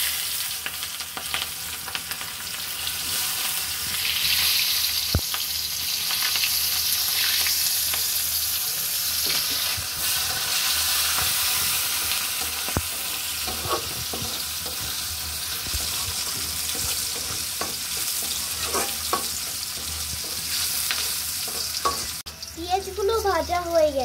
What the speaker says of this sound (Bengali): এবার পেঁয়াজগুলোকে ভেজে নেব।